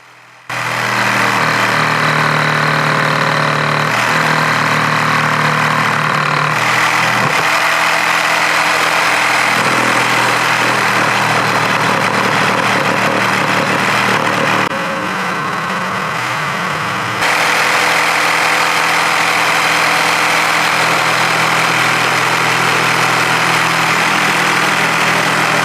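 A homemade table saw built from a reciprocating saw cuts wood with a loud, continuous rattling buzz that runs unbroken for about 25 seconds, its tone shifting slightly as it bites into the wood.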